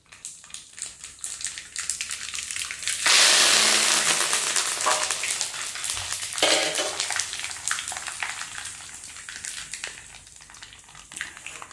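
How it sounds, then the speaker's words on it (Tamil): Hot oil crackles and spits sharply as mustard seeds hit the pan, a loud sizzling burst that slowly settles into softer popping. "கடுகு கொட்டிடுச்சு."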